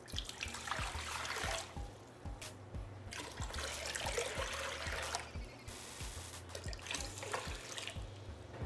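Ten cups of water pour into a cooking pot ahead of apple pieces going in, a steady running, splashing wash with a low rhythmic thumping running underneath, fairly close, and no voices.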